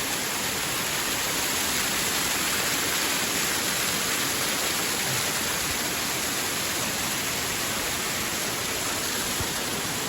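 A mountain stream at Nanu Oya rushes by close, a constant loud broadband roar of flowing water with no break and no voices.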